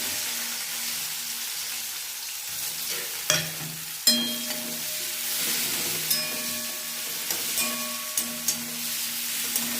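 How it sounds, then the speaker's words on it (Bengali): A single onion fries in hot oil in a pan for a Bengal-style egg dish, giving a steady close sizzle broken by a few sharp stirring clinks and scrapes, with no voices. "এই তেলটার মধ্যে আমি এই পেঁয়াজটা, একটাই পেঁয়াজ দিয়েছি"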